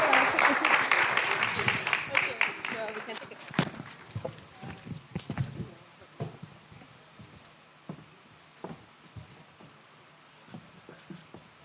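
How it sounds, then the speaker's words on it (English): Audience applause for panelists at a fintech challenge semi-final, dense clapping at first that thins within a few seconds into scattered single claps and shuffling footsteps as the room quiets. "Please clap for my panelists."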